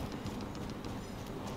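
Faint, steady rumble of a train rolling along in the video game Warzone, a continuous low drone with light clattering on top and no talk over it.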